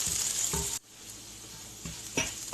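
Food sizzles in a frying pan for vegan adobo fried rice, a close crackling hiss that briefly drops away and returns with scraping stirs.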